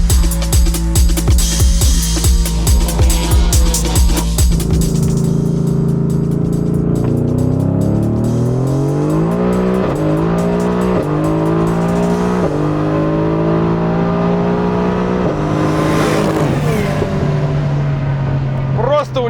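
Mercedes-AMG GT R racing a McLaren 720S, loud engines roaring and revving with tire spin, gear changes rising in pitch as both cars accelerate hard, up close, with someone talking over it.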